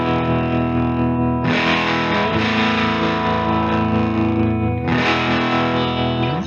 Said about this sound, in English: I have a harmonic tremolo, which I've started using recently, which I think sounds really good in combination with humbuckers and a bit of overdrive.